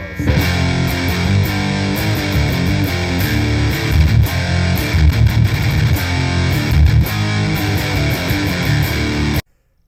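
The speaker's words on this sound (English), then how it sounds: "You get a fuzz tone as well as a distortion tone when you max out those knobs." Electric guitar played through a Black Sails distortion pedal with its knobs maxed, giving a thick, fuzzy, Big Muff-like tone; dense sustained chords ring loud and steady for about nine seconds, then cut off abruptly.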